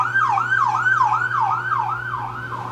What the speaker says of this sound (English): Oh, I've got an ambulance going by here.